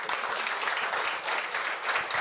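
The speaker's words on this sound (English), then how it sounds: "let's have another round of applause for Mr. Rampasad Siraj" Audience at a school donation ceremony for a Dominica relief fund breaks into sustained applause, a dense, even wash of many hands clapping at moderate distance with no talk over it.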